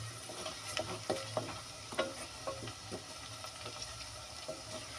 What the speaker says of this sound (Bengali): পেঁয়াজের সাথে ভাজা হোক রসুনগুলো